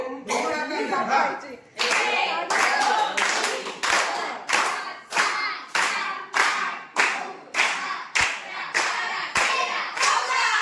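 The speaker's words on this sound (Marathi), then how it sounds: "टाळ्या वाजवायच्या ना मग वाजवा हो" A small group claps in bursts of quick, fairly loud handclaps at a birthday celebration, with short pauses between rounds and children's voices mixed in.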